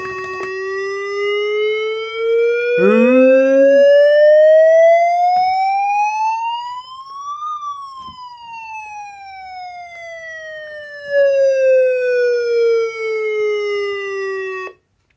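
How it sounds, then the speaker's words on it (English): A loud, steady 1050 Hz electronic weather radio alert siren wails, its pitch rising slowly to a peak and then falling back down, with no other sounds. "here's the siren."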